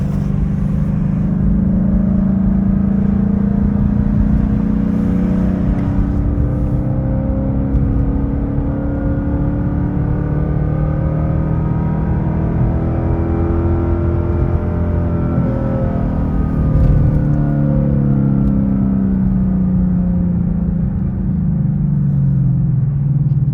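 A Ford Mustang GT S550 engine revs in second gear while driving in town, holding a steady, loud rumble with rising and falling pitch sweeps for over twenty seconds, with no talking.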